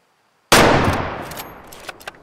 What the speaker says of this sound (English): I spine shot him.